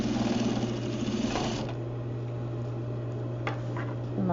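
A serger stitches the side seams of a pair of pants, a rapid, even mechanical whir running briefly before stopping, followed by quiet handling sounds and a steady low hum.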